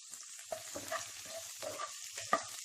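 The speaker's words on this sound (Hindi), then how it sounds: "तेल गरम हो चुका है। इसमें कटी हुई, देखिए इस तरह से काट के 3 से 4 हरी मिर्च डाल दें।" Sliced green chillies, garlic and curry leaves sizzle and crackle in hot oil in a pan for Mutton 65, with a steady close fry and a few stirring scrapes, no voices.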